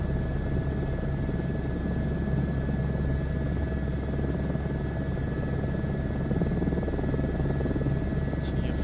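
Boeing 737 airliner cruising in Microsoft Flight Simulator 2024, a steady droning engine hum with a constant low rumble and faint high whine, loud and unbroken throughout with no talk.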